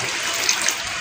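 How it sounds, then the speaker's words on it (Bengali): Water pours steadily into a stew pot on a home kitchen stove, a continuous hissing splash that holds at an even level for about a second, with no voices. "এবারে বেশি করে জল দেবো, কারণ স্টু তো একটু জল না হলে ভালো লাগে না।"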